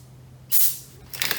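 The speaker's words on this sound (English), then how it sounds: "I'm going to take some carburetor cleaner and spray that through it" Carburetor cleaner sprays through a Kawasaki KLX140 dirt bike carburetor jet in a sharp, loud hiss of about half a second, with a second, more sputtering burst close by just after.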